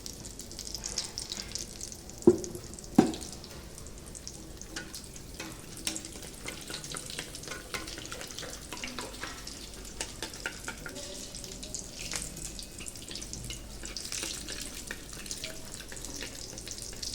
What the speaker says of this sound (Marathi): आपण नुसतं असं थोडंसं बेसन लावून घट्ट ठेवलेलं आहे ते हे आता आपण तळून घेऊ